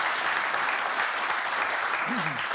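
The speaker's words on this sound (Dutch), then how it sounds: "We gaan nog zitten klappen ook." A TV talk-show studio audience applauds steadily, filling the space with a dense patter of clapping and a brief voice murmuring near the end.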